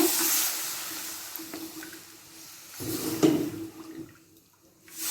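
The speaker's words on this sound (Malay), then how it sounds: "Masukkan air secukupnya." Water is poured into a pan of sautéed vegetables for a vegetable kurma, a short splashing gush in the middle of a low steady hiss, nearby and fairly soft.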